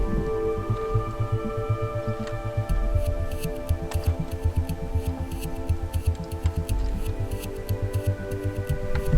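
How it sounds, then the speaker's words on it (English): An electric trolling motor runs on a foot pedal at low speed on a boat, giving a steady, quiet hum with faint rhythmic throbbing and light ticking that carries on throughout. "Right now I'm trying out the trolling motor."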